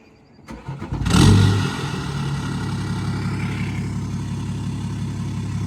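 A modified diesel car engine cranks, fires up with a loud rev, then settles into a steady, deep rumbling idle close by.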